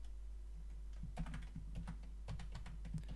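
Typing on a computer keyboard while bone names are entered into a software tool: quiet, rapid clusters of key clicks in irregular bursts over a low steady hum.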